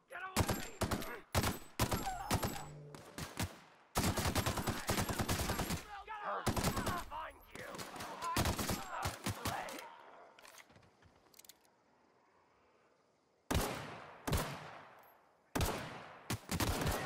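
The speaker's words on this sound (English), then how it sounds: "Ooh, yeah, assault rifle." Assault rifle fire from The Outer Worlds video game, loud repeated bursts of rapid shots separated by short gaps, with a quieter stretch of fading echo before the bursts resume near the end.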